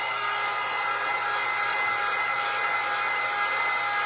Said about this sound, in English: I'm going to dry this up